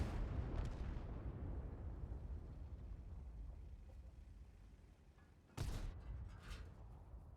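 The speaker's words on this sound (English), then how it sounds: "I'm pretty sure the JP 100 just fired." A JP 100 tank destroyer fires its gun in a tank video game: one heavy boom bursts out partway through, over a steady low engine and battlefield rumble.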